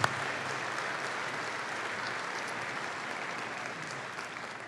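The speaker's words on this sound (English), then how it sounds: "let's give them a round of applause" Sustained applause from a crowd at a college commencement ceremony, steady clapping throughout with no talking, fading slightly toward the end.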